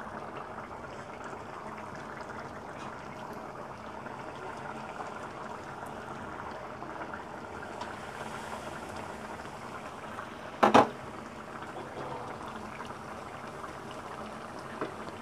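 Dried shrimp curry with vegetables simmering and reducing in a pot, a faint, steady bubbling hiss throughout with one brief clatter partway through.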